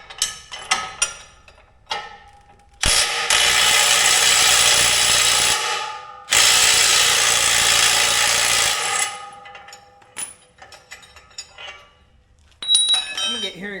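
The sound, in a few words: power tool tightening seeder bolts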